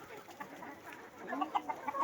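Hens and a rooster in a backyard coop, including an old hen still not molted, cluck in soft, scattered calls that grow louder and more frequent toward the end, with no talking.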